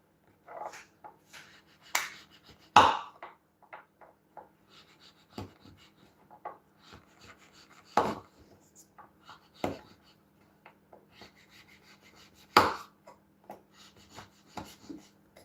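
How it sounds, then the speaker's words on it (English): Food being chopped on a cutting board in a home kitchen, with sparse sharp knife taps at an uneven, unhurried pace, quiet and close, alongside faint clicks and breathing. "So I need 200 grams of this chopping up."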